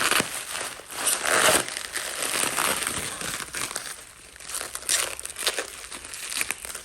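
Packing tape and padding crinkled and crushed while a bonsai tree shipment is unboxed, close crackly rustling in irregular bursts, louder at the start and dipping midway before flaring again, with no voices.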